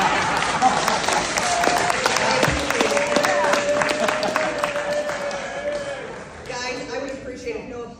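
Audience applause at a mayoral debate in Peoria, a sustained crowd clapping with some cheering that carries for several seconds before fading, with a voice breaking in near the end.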